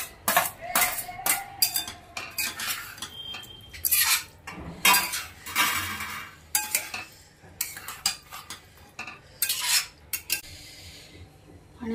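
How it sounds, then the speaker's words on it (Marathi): Fried potatoes, chili and onion go into a pan of hot oil for a potato vegetable dish. A metal spoon clanks and scrapes loudly and unevenly against the pan during stirring, with brief pauses in between. "आता बटाटा टाकायचा त्याच्यामध्ये, फ्राय केलेला, लोबळी मिरची, कांदा"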